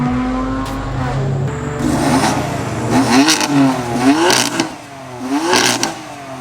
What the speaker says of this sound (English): you can hear the turbo whistle and everything